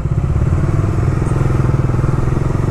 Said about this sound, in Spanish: esta prueba de aceleración de la Dominar 400 TE Touring Edition 2023